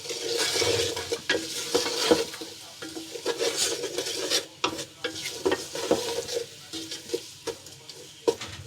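Vegetables with spices, tomato and green chilli sauté in a pan for a vegetable pulao, with a steady sizzle under repeated scraping and stirring strokes from a spoon, close up and continuous, no voices.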